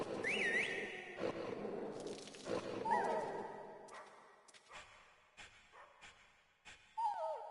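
A dog in the Metal Gear Solid video game barks, yips and whimpers in short bursts amid synthesized game effects and tones, loud and close.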